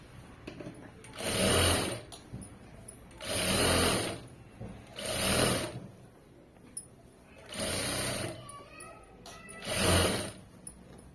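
Electric sewing machine stitching fabric to join side seams, five loud close bursts of rapid whirring separated by short quiet pauses with small handling clicks.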